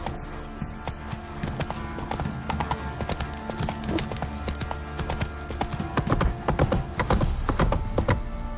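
Horse hooves clip-clopping on the ground in the video game The Witcher 3, a steady run of close, crisp hoofbeats against a low background rumble, with no voices.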